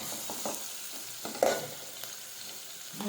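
Cauliflower sizzles in a pan, a steady frying hiss broken by a few scraping stirs and light clinks, close and moderately loud with no talking.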